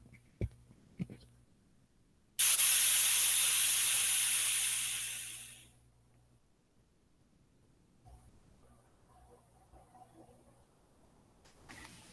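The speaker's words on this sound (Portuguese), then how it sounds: "um recipiente de vidro com uma pequena saída de vapor, uma ventoinha de plástico, uma espiriteira contendo álcool, uma máquina térmica de Heron feita de vidro" Steam from a glass Heron steam engine heated by an alcohol burner: after a few faint clicks, a sudden loud, sharp hiss bursts out for about three seconds, then fades away into quiet background.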